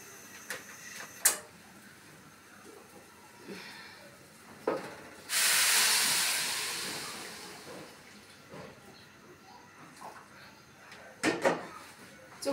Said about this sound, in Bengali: এখন হচ্ছে গরম পানি দিয়ে দেব।